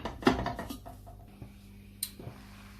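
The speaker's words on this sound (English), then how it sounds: "I'm going to put the lid on for a good 5 to 8 minutes and then turn it off." Metal clatters and scrapes close by as a lid is set onto a pan of chicken fried rice, then a light clink follows, over a faint steady kitchen hum.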